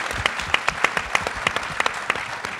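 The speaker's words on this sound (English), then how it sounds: "let's have a big round of applause for that" Audience applause following a Black Panther film talk, a dense patter of many hands clapping at close range with a few sharper individual claps standing out.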